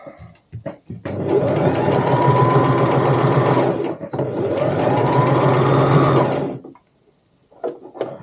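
A sewing machine back stitching and then running around a rectangle of tote bag fabric: two long, loud, steady whirring runs with a short pause between, then quiet.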